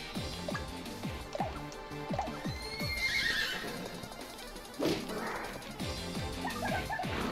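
A horse in the video game Miitopia neighs loudly midway while rhythmic clip-clop hooves trot steadily throughout, with faint game effects in the background.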